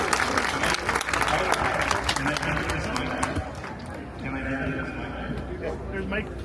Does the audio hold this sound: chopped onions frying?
no